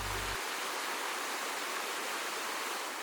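The Mapanegaya waterfall rushing over rocks, a dense, even roar of falling water that fills the whole stretch without pause, close and loud, with no voices.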